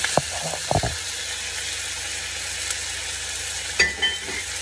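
Chicken for adobo sizzles steadily in a pan, a broad constant hiss with a few clattering stirs near the start and another scrape toward the end, no voices.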